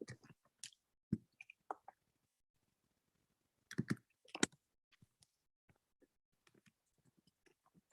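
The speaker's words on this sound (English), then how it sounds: "I'm just typing to Andy real quick" A computer keyboard is typed on during an online meeting: sparse, close clicks in scattered bursts, a busier cluster midway, then light isolated taps, all with no talk.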